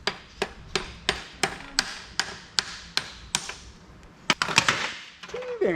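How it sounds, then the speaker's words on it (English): Claw hammer striking metal during installation of a front auto locker diff lock on a Nissan Patrol, about a dozen sharp, evenly spaced close blows followed by a cluster of quicker irregular knocks. "The claw hammer."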